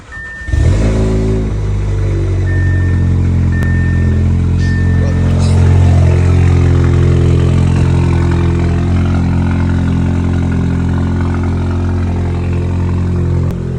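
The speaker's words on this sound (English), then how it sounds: "This is a stage 2 Audi S3. All it has is a resonator delete and a downpipe." A stage 2 Audi S3 with a resonator delete and downpipe cold-starts after sitting a week: a sharp crank and flare, then a loud, steady, rumbling high idle that holds close and strong throughout.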